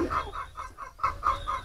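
Chickens cluck in a quick series of short, bright calls with a brief pause midway, heard up close and alone.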